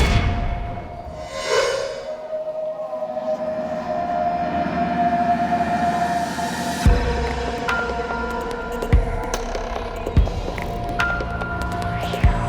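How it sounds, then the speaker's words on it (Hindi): A train sits at a railway station platform, a long droning rumble with a tonal whine that gives way to heavy rhythmic clunks of wagons passing, loud and close, with a swelling dramatic tone at the start. "रेलवे प्लेटफॉर्म है, पब्लिक प्लेस, काफी मूवमेंट हुई होगी यहाँ पर।"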